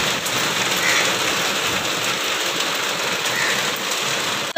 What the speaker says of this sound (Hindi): देखें कितनी ज़्यादा बारिश हो रही है